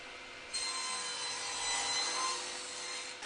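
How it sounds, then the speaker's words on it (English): Hand saw cutting a test tenon in wood for a small table, a continuous close rasping stroke starting after a brief moment of quiet and carrying steadily to the end. "Now let's just cut out a quick test tenon to make sure it's all good."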